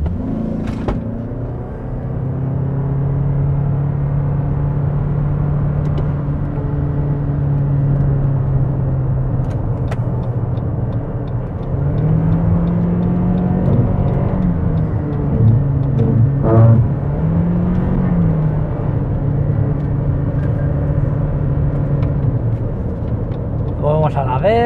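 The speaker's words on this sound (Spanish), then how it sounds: "el modo sport, el motor de gasolina empujando." A Lexus NX450h plug-in hybrid 4WD in sport mode accelerates on its petrol engine, a steady in-cabin engine drone rising and falling in pitch through gear changes while someone talks over it.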